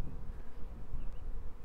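Honey bees swarm around an opened hive as frames are pulled out, giving a dense, steady buzzing close by with no voices over it.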